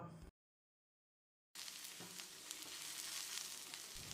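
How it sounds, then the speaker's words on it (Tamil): Steady sizzling of onions frying in hot oil in a pan for tomato chutney, after a brief moment of silence at the start, with no voices. "வெங்காயத்தை சிவக்கிற அளவுக்கு வதக்கிடலாம்"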